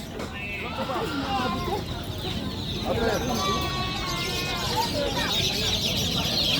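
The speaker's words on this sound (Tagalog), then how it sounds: "Yan ang sisiw." Chicks and chickens clucking and peeping in a farmyard, a scatter of short calls repeating near and fairly loud, mixed with someone talking over them.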